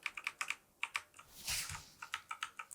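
A key on a computer keyboard, the F12 key, is tapped over and over in quick, uneven clicks, close and quiet, with a brief rustle in the middle.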